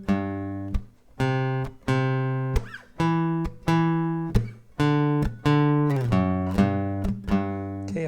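A guitar string plucked without muting, repeated single notes roughly every half second, each ringing on with full sustain and rich overtones until the next pluck, played alone.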